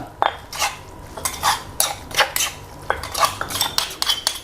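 A spoon scrapes and clinks against a bowl in quick, repeated strokes while Thai boiled egg chili paste is tossed together with spring onion and coriander, steady and close with no talking.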